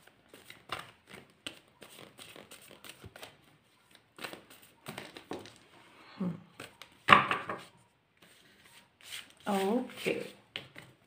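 Tarot cards shuffled and handled by hand in soft, irregular riffling bursts and taps, close but quiet, interspersed with someone speaking.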